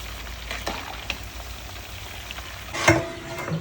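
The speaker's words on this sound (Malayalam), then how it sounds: "അപ്പോൾ അതിനുള്ള ചിക്കൻ മസാലയൊക്കെ തിരുമ്പി വെച്ചിട്ടുണ്ട്. വറുത്തുകൊണ്ടിരിക്കുന്നു." Chicken masala for a catering-order chicken biryani sizzles and fries in a pan, a steady close crackle with occasional stirring scrapes and a louder burst near the end.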